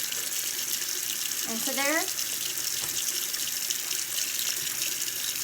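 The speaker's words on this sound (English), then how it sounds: "Okay, I'm gonna run straight water" Water runs steadily from a tap into a sink drain that has not had straight water through it for a while, with a constant splashing hiss, while a person briefly speaks over it.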